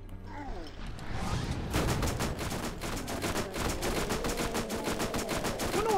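Dense, rapid gunfire from a Borderlands shooter game, aimed at zombies: a steady stream of sharp, loud shots that fills nearly the whole stretch after a brief quieter opening, with no talk over it.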